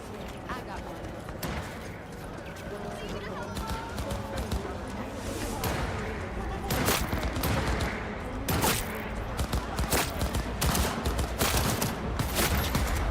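Gunfire in the video game Cyberpunk 2077: repeated sharp shots and bursts rise from a busy background, growing denser and louder toward the end, with a person talking throughout.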